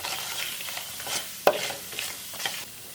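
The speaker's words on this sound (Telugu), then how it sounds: "ఈ మినపప్పు కూడా 1 నిమిషం వేయించుకున్న తర్వాత ఎండుమిర్చి," Urad dal, dried red chillies and cumin sizzle in a pan as they are stirred, a steady close crackle and hiss broken by sharp scrapes of the spoon against the pan.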